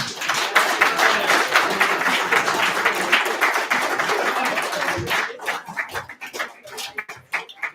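Audience applause at a poetry event, a dense burst of clapping for about five seconds that thins into scattered individual claps near the end.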